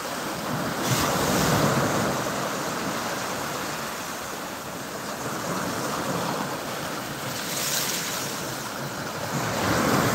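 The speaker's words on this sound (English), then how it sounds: "I used to sleep to this. I'd find like an 8-hour ocean sounds, turn that on, and go to sleep." Ocean surf at Pensacola Beach, waves washing in and out in slow swells under gusty wind buffeting the microphone, continuous and fairly loud with no voices.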